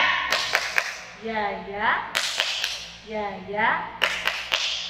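Children clapping a rhythmic 'tepuk siap' clap chant at a children's church service, crisp claps in short repeated patterns alternating with sung chant voices.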